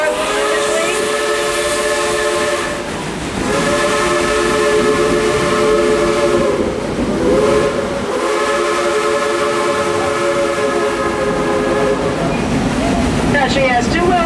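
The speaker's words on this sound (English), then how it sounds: "she is a Baldwin 282 narrow gauge locomotive" A Baldwin 2-8-2 narrow gauge steam locomotive at Dollywood in Pigeon Forge, Tennessee, sounds a loud, close whistle in several long sustained blasts over a constant hiss of steam.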